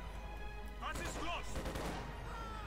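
Battle gunfire and crashing explosions in the Company of Heroes 2 strategy game crackle in quick bursts under a speaking voice, moderately loud and thick with rapid shots.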